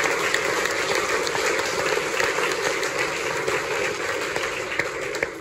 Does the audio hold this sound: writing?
no